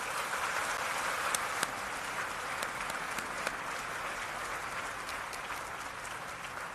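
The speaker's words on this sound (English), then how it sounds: "Give a round of applause for the leadership of the next generation." An audience at a military change of command parade gives a round of applause, a broad, even sheet of clapping with a few sharper claps standing out, steady throughout and gently fading near the end.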